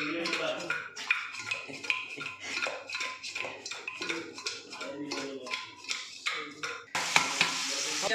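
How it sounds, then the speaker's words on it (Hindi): Salted raw chicken for a desi-style chicken biryani is stirred in a metal pot, the spoon scraping and clattering in steady rhythmic strokes for several seconds, ending with a louder clatter near the end. "इसको अभी मिक्स कर लेने का"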